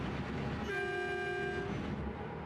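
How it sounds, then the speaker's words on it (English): A single train-like blast of about a second from a MAN truck's air horn in Euro Truck Simulator 2, moderately faint over a low, rumbling drive. "the air horn, sounds like a bloody train"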